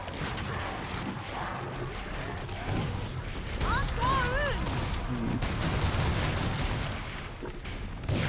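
Dense, continuous gunfire from Gunslinger weapons in the video game Killing Floor 2, rapid shots and heavy booms packed together with game noise and a brief warbling effect, loud throughout with someone talking over it.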